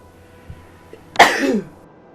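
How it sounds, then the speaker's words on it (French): A single loud sneeze bursts out after a couple of faint background ticks, sharp at onset and trailing off over half a second, in the game Darksiders 2. "éternuement"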